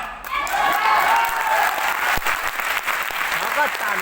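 An audience applauds at a mindset and counseling talk, a sustained patter of clapping from a room of people, with a voice speaking over it.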